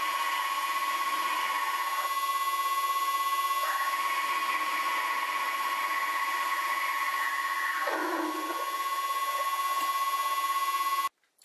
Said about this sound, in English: so I will drill the hole